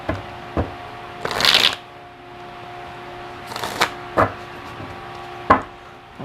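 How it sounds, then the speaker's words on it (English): Tarot cards being shuffled by hand: two brisk riffles and a few sharp taps and slaps of the deck, close up, with no talking. "Let me pull some cards so that Spirit can clarify"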